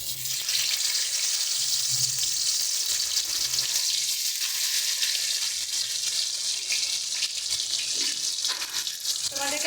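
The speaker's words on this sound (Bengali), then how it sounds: "এর মধ্যে এবার আমরা দুটো দুটো করে মাছ দিয়ে ভেজে নেব।" Pabda fish fry in hot oil, placed two at a time, giving a loud, dense, steady sizzling hiss that runs unbroken throughout, with faint low voice murmurs underneath.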